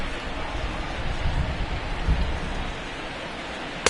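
Steady rain plays as a broadband hiss, the ambient weather sound of the baseball video game MLB The Show 19, continuous and moderately loud with no talking.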